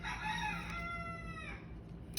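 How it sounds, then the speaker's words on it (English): A rooster crows once in a long, wavering cock-a-doodle-doo that fades toward the end, heard moderately distant over faint background noise with no talk. "And the rooster agrees."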